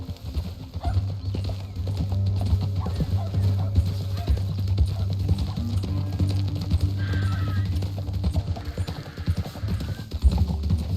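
Horse hooves clip-clop steadily in Red Dead Redemption 2 as riders move along a canyon trail, an even trotting rhythm throughout, close and clear beneath low voices.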